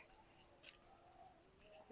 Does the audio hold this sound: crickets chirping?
yes